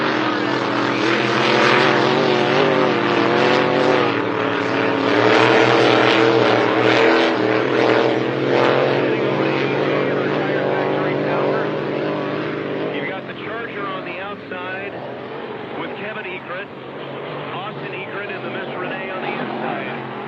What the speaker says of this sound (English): Serious boat speed when they get to the start finish because they haven't spooled up yet